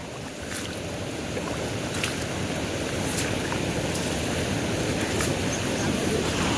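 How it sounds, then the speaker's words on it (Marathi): A small waterfall formed by flowing water gives a constant broad rushing roar, even and unbroken, with occasional faint splashy accents. "तो बघा तिकडे छोटासा धबधबा तयार झालाय"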